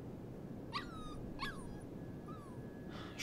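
Puppy in the video game Life is Strange 2 whimpering, three or four high, thin whines with rising and falling pitch over a steady low background hum, no talking.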